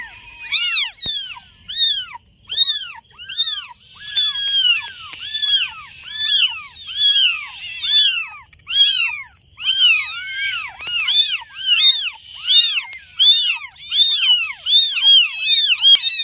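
A tiny kitten from a litter of three meows repeatedly in high, thin, rising-falling cries, close and clear, in a steady rhythm across the whole stretch with no talk.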